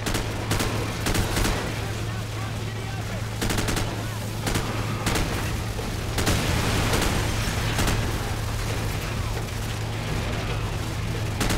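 Rapid gunfire rattles in Call of Duty 4: Modern Warfare, sustained bursts and single shots crackling loudly and almost continuously over a steady low hum, with occasional talk underneath.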